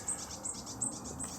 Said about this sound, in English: Very loud bird there, ruining the video